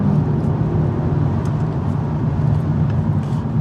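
A Kia Stinger GTS with a twin-turbocharged engine drones steadily and loudly, a dense low rumble that holds even throughout with no voices over it.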